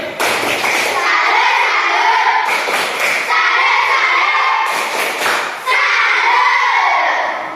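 Classroom students performing a rhythmic 'tepuk salib' clapping routine, loud patterned group claps and thumps mixed with children's chanting and shouting voices, continuing for several seconds.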